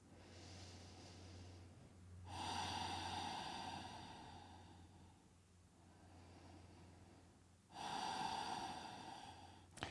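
Two long, loud breaths during a wide-legged yoga pose, each a sustained airy rush lasting several seconds with a quiet pause between, heard up close with no talking.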